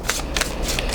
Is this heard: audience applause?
no